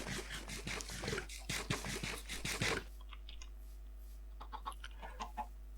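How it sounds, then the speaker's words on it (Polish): Small chicken in Minecraft clucking in a short run of close, fairly loud bursts, then quieter scattered clucks and faint scratchy taps over a low steady background hum. "Ok, mamy tutaj małego kurczaka"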